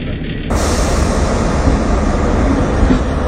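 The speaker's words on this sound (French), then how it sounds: "La locomotive BB 16559 terminée sort des ateliers." SNCF BB 16500 electric locomotive leaving the workshops, a steady loud rumbling rail roar that swells in after half a second and continues evenly.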